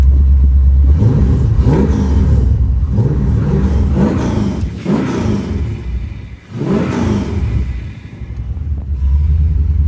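LS V8 engine swapped into a BMW E36, running with its tensioner and belt removed, a loud close rumble that surges and dips through several revs with outdoor wind noise.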